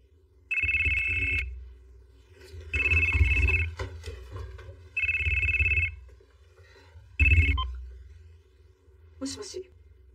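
A telephone rings in a repeating electronic pattern, about five distinct bursts separated by short pauses, clear and fairly close before it is answered.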